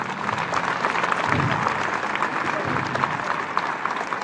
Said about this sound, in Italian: c'è bisogno di un altro applauso